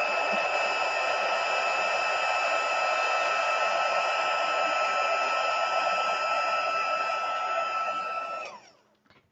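A heat tool blows hot air over Versamark stamping ink for embossing, a steady, loud whirring rush that runs unbroken for about eight seconds, then cuts off and winds down, with no talking.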